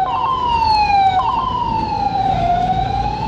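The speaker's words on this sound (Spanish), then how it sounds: "Vamos a esperar que la ambulancia pase." An ambulance siren wails past in a public street, a loud, continuous rising and falling tone with faint traffic rumble beneath and no voices over it.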